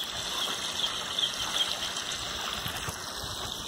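Water gushes steadily from a freshly drilled well pump on a farm, a continuous splashing flow with slight fluctuations, fairly close and alone without talk.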